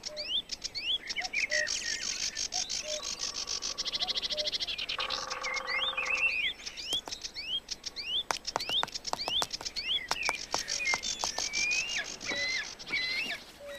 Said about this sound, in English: The air resonates with bird song.